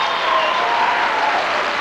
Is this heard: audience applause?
yes